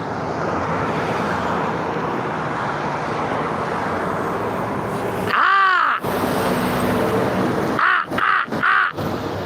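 A crow caws from a city sidewalk beside a bridge in the morning, one drawn-out call followed after a pause by three quick caws, loud and close over steady road traffic hum.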